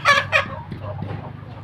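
Chickens on a Thai farm in the evening after feeding: two loud, close clucking calls open, then quieter scattered clucks and farmyard murmur continue.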